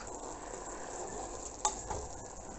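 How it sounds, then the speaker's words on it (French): Udon noodles stirred gently in broth in a cast-iron cocotte pot, a low steady sizzle with soft scraping and one or two light clinks of the utensil. "Et on va mélanger délicatement."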